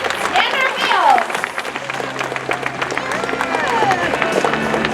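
An audience at a SeaWorld San Diego killer whale show claps in steady applause mixed with crowd noise and cheering, while an announcer talks over it.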